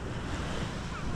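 Calm sea waves wash in a continuous broadband rush, close by and fairly loud, with some wind buffeting the microphone.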